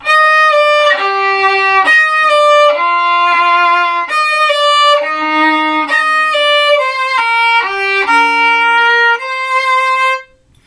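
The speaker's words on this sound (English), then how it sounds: "if I were to play it slowly, it would sound like this." A solo violin plays the chorus of a song slowly, clear sustained bowed notes one after another, close and loud, ending with a fading final note.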